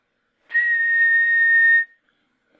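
A single steady whistled tone holds one pitch for about a second and a half, clear and alone against silence.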